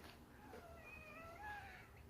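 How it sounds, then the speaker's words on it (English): A domestic cat gives a quiet, drawn-out meow at an old cemetery, faint against a steady outdoor background hum. "and it's the cat."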